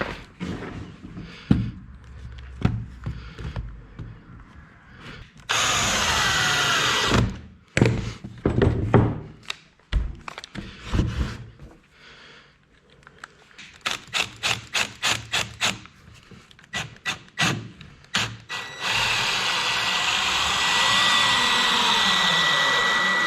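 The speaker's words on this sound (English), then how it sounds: "So then we're just going to put a few screws in to hold it in place." A power drill drives screws into a wooden deck gate in repeated whirring bursts, some long and some short rapid pulses, separated by quiet gaps and knocks.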